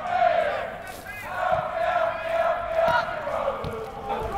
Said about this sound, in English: it seems that the crowd are still rather obsessed with Alfie Rutherford.